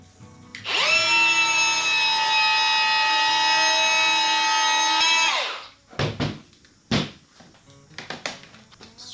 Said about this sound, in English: I'll give it a quick whiz out with a die grinder